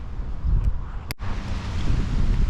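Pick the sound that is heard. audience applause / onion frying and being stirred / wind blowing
wind blowing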